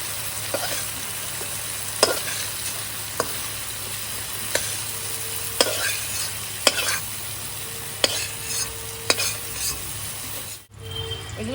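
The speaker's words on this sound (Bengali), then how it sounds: "এগুলো এখন ভেজে নিয়েছি" Spices and green chilies fry in a pan with a steady, loud sizzle, while a spatula scrapes and clicks against the pan at irregular intervals throughout.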